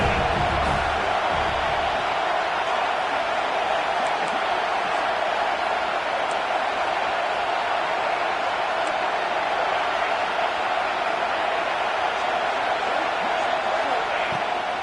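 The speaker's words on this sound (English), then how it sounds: "Decibels rising as the crowd gets behind this defense on 3rd down." Stadium crowd noise from a college football video game, a dense steady roar of the crowd holding at an even, loud level throughout with no break.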